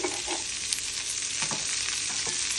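Onions and capsicum, seasoned with salt and turmeric, fry in a pan for capsicum masala, hissing with a steady close sizzle while a few scraping stir strokes cut through.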